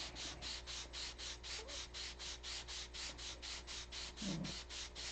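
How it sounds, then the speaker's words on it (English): 180-grit sandpaper rubs back and forth on wood in a steady, even rhythm of about twenty quick, quiet strokes, with no talking. "Hours and hours of sanding and sanding."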